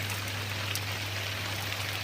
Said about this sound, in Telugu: వర్షం అయితే వస్తూనే ఉంది.